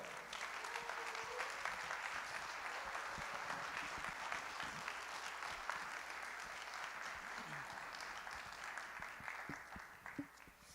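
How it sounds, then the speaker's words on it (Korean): A church youth congregation applauds to welcome a pastor to the front at an evening service. The clapping is dense and sustained, soft and somewhat distant, and fades slightly toward the end. "나오실 때 큰 박수로 한번 환영해 주실까요?"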